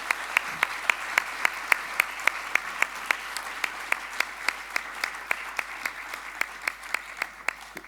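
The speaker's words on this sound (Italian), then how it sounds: "Io farei un grande applauso ai due nostri relatori questa sera." An audience at a diocesan social week evening in Conegliano gives steady applause for two speakers, a run of distinct, evenly spaced claps over a soft room hum.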